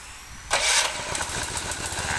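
A two-tier rice harvester's engine starts with a sudden loud catch and settles into a steady, rough running roar that continues to the end, with no speech.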